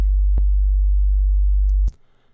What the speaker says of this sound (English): right now it's just a sine wave